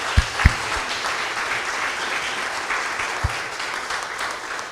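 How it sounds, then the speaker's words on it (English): An audience at a scientific COP30 event applauds its panel, giving a steady wash of clapping with a few sharper nearby claps. "So I would like a round of applause to thank our panel."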